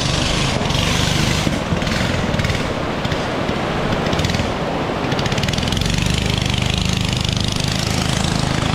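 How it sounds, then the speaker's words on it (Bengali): Loud, steady boat motor engine droning close by, a continuous rumbling whine that shifts slightly in tone as it moves past. "এইখান দিয়ে একটা নৌকাও যাচ্ছে"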